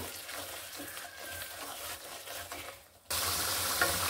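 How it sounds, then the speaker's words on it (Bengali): Spice paste of cumin powder and salt frying in a pan while being stirred for fish curry, a soft hiss with light scraping that jumps to a louder, brighter sizzle partway through. "ভালোভাবে মশলাটা আমি কষিয়ে নিব।"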